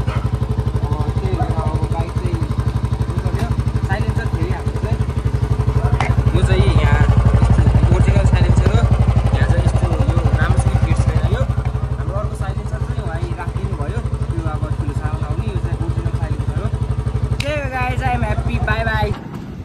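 A motorcycle engine runs steadily and loudly near at hand, with exhaust rumble throughout and a voice talking over it.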